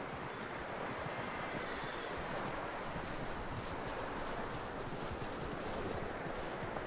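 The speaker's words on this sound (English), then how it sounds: "That looks like a decent horse." Horse hooves clip-clop steadily in a video game, a continuous dense patter of hoofbeats with rustling noise, heard alone at a moderate level.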